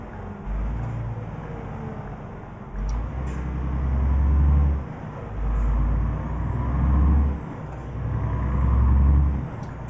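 A truck in Euro Truck Simulator 2 rumbles with a deep, surging engine that swells and fades several times, while sharp air brake hisses and releases cut through at intervals.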